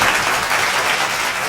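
Audience in a TV studio applauding, a loud, dense burst of clapping from many hands, close and steady for a moment.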